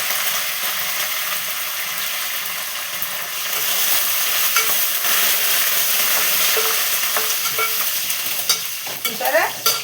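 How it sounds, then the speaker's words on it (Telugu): Curry leaves crackle and sizzle in hot oil for a tempering, a dense close hiss with scraping stirs throughout, rising slightly in the middle and ending with a few sharper clinks. "ఇప్పుడు కరివేపాకు వేసేసుకుందాం. మన ఫేవరెట్ కరివేపాకు."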